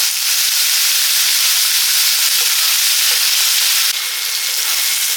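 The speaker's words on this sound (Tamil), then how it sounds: "கொஞ்சம் நல்லா வதக்கிடுங்க எண்ணெயிலே வந்து இந்த காய் வந்து வதங்கணும்" Radish pieces sautéing in hot oil in a pan, a loud, close, continuous bright sizzle and hiss that holds steady for about five seconds, easing slightly near the end.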